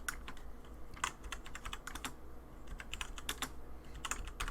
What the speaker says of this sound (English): I have to maneuver my hands around a keyboard.